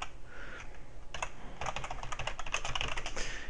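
Rapid, continuous typing on a computer keyboard, keys clattering in quick uneven bursts close to the microphone, with no voices.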